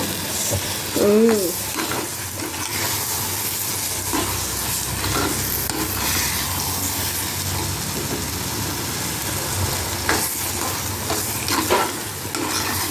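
Mushroom masala sizzles and spits in hot oil with mutton spice powder stirred through it, a loud, continuous frying hiss broken by occasional scraping stirs, with a low hum underneath.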